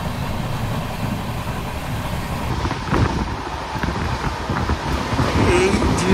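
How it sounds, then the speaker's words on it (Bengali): An express train between Kolkata and New Jalpaiguri running near 110 km/h, with a steady loud rumble and roar of wheels and wind heard from inside the coach and no breaks throughout. "এখন ট্রেনটা 110-এর কাছাকাছি স্পিড নিয়ে নিয়েছে।"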